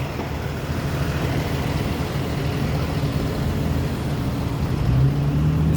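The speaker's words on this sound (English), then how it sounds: "Traffic is crazy." Dense street traffic on Bedford Avenue in Williamsburg, Brooklyn: a continuous close rumble of cars, trucks and buses with low engine drone and a heavier vehicle rising near the end, with no talking.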